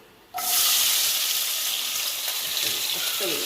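Chopped onion and tomato hit hot oil in a frying pan with fenugreek, bursting into a loud, steady sizzle that holds evenly after a quiet start, close and without talk.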